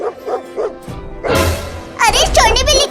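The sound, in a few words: dog barking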